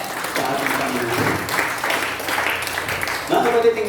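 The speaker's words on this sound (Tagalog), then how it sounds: "Lahat ng masaya magsabi ng amin na pumalakpak na marami sa ating Panginoon." A church congregation applauds the Lord, steady clapping from many hands with crowd voices mixed in, fairly loud and close, ending with a brief rise of voices.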